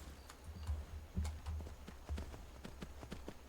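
Horse hooves clip-clopping in Skyrim, a steady run of hollow hoofbeats with dull low thuds beneath, close and fairly quiet, continuing without break.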